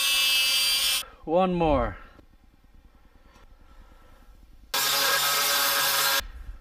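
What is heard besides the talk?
cutoff wheel cutting metal pieces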